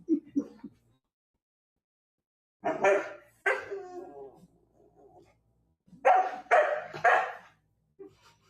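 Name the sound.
St. Bernard puppy barking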